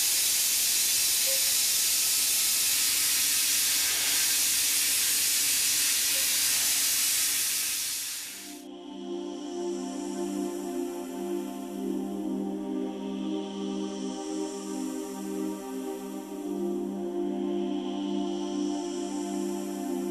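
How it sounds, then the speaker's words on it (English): Air-powered milling spindle with a tapered end mill cutting metal, a loud broadband air hiss giving way to a steady high whine with tonal harmonics as the cut proceeds. "Milling particles are being evacuated from a 12/1000 depth of cut."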